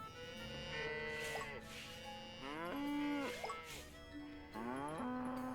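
Several cows low in turn in the farming game Coral Island, long drawn-out moos overlapping one another, fairly steady and close, with no talking.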